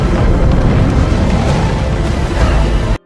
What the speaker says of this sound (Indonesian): Carapax menyeret Victoria sebelum dirinya meledakkan seisi pulau serta seluruh perangkat Omek yang tersisa